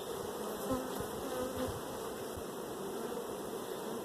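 Honeybees buzz steadily from an open hive colony box, a dense, continuous drone close by with no talking.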